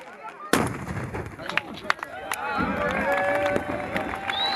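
Easter firecrackers explode at the Christ is Risen celebration on the Greek island of Patmos, starting with a sudden loud blast followed by scattered bangs and pops over a noisy, cheering outdoor crowd.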